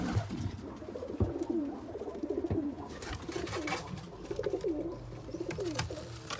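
Pigeons cooing in a loft with nesting pairs and young birds, repeated soft rolling coos close by amid shuffling and scattered clatter, no talk.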